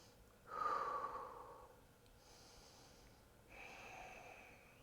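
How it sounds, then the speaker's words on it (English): Deep full-body breaths during a yoga flow: one strong, noisy inhale followed by longer, softer breaths through the nose, close and quiet with no talk. "3 full body breaths."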